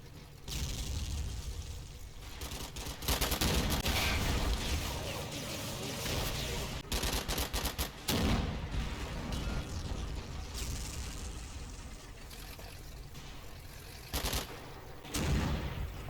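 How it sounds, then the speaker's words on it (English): A barrage of artillery and gunfire in the Combat Mission video game, a dense, rumbling wash of blasts and rapid shots with a few sharp bursts. "I've called in an interdicting barrage on the crossroads."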